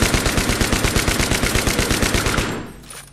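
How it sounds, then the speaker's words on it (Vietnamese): Enemy machine-gun fire in Battlefield 3 rattles in a rapid, steady burst of loud close shots for most of the stretch, then cuts off and leaves a fading tail. "Nó bắn kinh quá."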